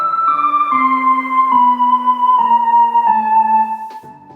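A retro, fairy-tale sounding synth plays a slow descending melody of sustained, bright tones, each note stepping down smoothly, loud and alone with no voices.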